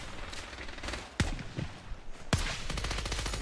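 Rapid video game gunfire in the shooter Scavengers, with sustained automatic bursts and two sharp, loud shots standing out amid a dense, close firefight.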